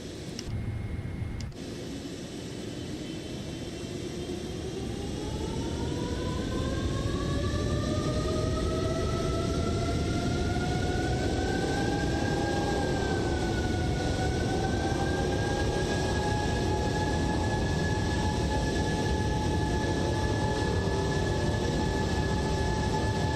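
A Boeing 777 rolling on the ground in Microsoft Flight Simulator 2024, a steady engine whine rising slowly in pitch over a broad, constant rumble, heard alone and fairly loud throughout.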